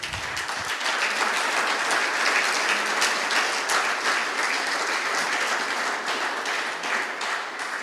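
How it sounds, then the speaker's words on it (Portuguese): A church congregation applauds during a service, a broad wash of many hands clapping at once, steady and fairly loud for several seconds with no voice over it. "Você pode aplaudir o Senhor?"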